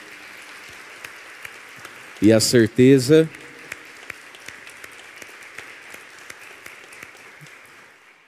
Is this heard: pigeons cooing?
no